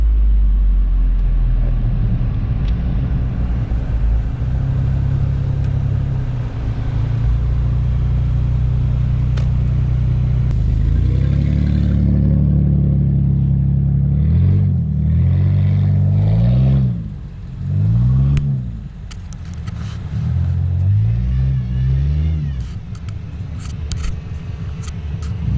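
A frequently broken car with its warning lights always on revs hard in first gear during a drift session, a loud, close engine drone that rises and falls in several sharp revving surges toward the end.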